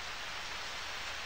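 Steady rain in the farming game Harvest Moon: Back to Nature, an even, soft hiss of falling drops that holds unchanged through a short stretch, with no other sounds.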